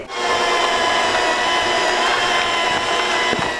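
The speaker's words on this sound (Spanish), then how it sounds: "vamos a empezar por batir nuestra manteca. La vamos a suavizar bien." An electric mixer beating lard for Oaxacan pork tamales, a steady close motor whir with a grinding, rubbing texture and no talk.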